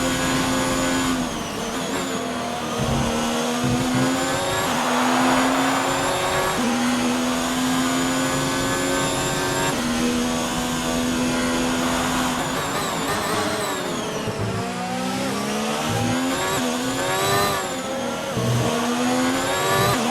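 A Formula 1 race car engine screams in the video game F1 2019 at the Australia circuit, its loud whining pitch climbing and dropping repeatedly through gear changes and revving.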